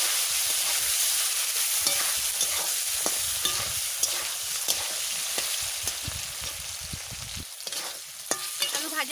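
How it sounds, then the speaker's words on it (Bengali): Onion and potato frying together in a hot pan for a potato curry, with a steady oily sizzle broken by repeated scraping stirs of the spoon, close and continuous with no voices. "পেঁয়াজ আর আলু একসাথে কষাই নিচ্ছি"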